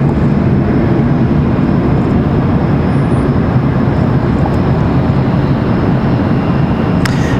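Endeavor Air flight 5198 departs Raleigh-Durham International for DCA at night, a loud, steady jet roar that holds constant throughout, heard from the ground, with no talking.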